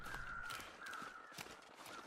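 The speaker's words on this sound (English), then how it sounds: "Two sets of crows up here." Crows caw in the survival video game The Long Dark, a few quiet, hoarse calls repeating at a distance over a soft wind-like hiss.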